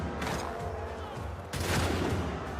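Gunfire in Assassin's Creed 3: a dense, continuous crackle of shots that swells into a louder, fuller burst about halfway through.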